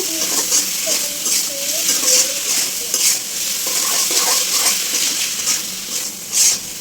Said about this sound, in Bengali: যদি আমি একটু কাঁচা মশলা একটু ভেজে দিব